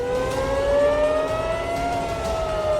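Air raid sirens wail steadily across Israel during an Iranian missile attack, one loud, continuous rising tone holding throughout amid a constant background hum.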